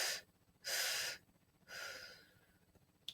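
Breaths are pushed out of the mouth in three strong airy bursts, loud and close, with quiet gaps between them, during a guided breathing exercise.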